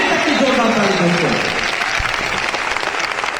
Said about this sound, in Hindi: मैं चाहता हूं प्यारी सी टीम के लिए अभी तक की जोरदार ताली दोस्तों